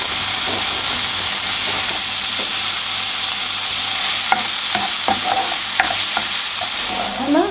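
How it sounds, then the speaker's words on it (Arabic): Onion sizzling in oil in a pan, a samosa meat filling in progress, with a steady broadband frying hiss and occasional stirring scrapes and knocks near the end, close and alone without voices. "رح نقلي البصلة معه."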